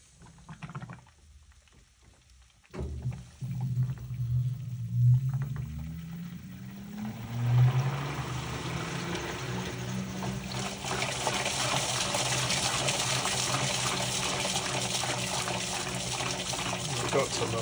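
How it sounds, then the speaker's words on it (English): LG Turbodrum WTR807 washing machine finishing a bleach flush on a heavy whites cycle, water rushing and splashing steadily inside the drum, quiet at first and then louder and constant. "I just caught the tail end of the bleach flush."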